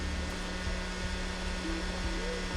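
An electric heat gun runs nearby while powered from a Fossibot F2400 portable power station, giving a steady, unbroken blowing hiss and hum at a constant level throughout with no pauses.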